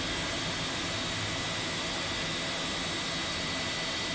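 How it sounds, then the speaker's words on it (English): A Flight Factor 757 jet engine runs in X-Plane 11, giving a steady, even roar with a high whine, constant and unbroken with no voices. "But we got the engine started this time"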